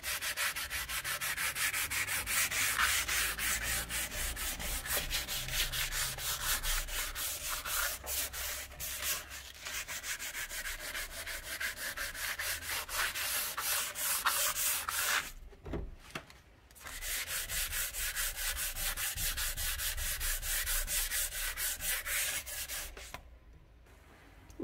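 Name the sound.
rubbing to clean stains off PVC window frame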